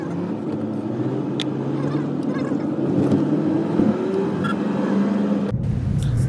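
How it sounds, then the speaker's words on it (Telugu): Traffic roars past on a Mumbai highway near a toll plaza at about 10 p.m., a steady rumble of engines with rising passing vehicles and a faint horn or two. "ఆల్మోస్ట్ నైట్ 10 o'clock కూడా చాలా ట్రాఫిక్ ఉంది ఈ ముంబై హైవే మీద"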